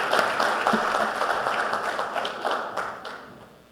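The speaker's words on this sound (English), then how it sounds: "Please join me in giving a round of applause for Dr. J. Barnett" Audience applause fills a panel session on mental health in the corporate world, a dense steady wash of clapping from a crowd that slowly fades over about four seconds.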